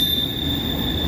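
A CSX freight train passes with locomotives, a loud, steady rumble of rolling wagons with a sustained high metallic wheel squeal running throughout.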